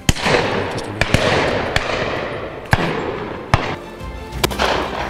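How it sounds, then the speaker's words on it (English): Sharp shotgun blasts from a Perazzi at high pheasants flying along a tree line, several loud cracks spaced across the outdoor scene, with a noisy, rustling background between shots. "Beautiful. Cracking shot."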